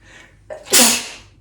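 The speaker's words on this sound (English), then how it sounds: "Oh dear, I sneezed." A single close, loud sneeze with a short intake of breath before it, then quiet.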